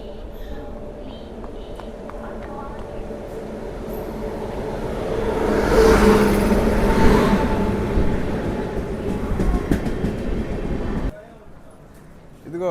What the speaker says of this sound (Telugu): మన ట్రైన్ అయితే వచ్చేసింది.